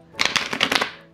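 Tarot cards being shuffled by hand, a quick run of papery riffles and flutters in a close, quiet room, with no talking.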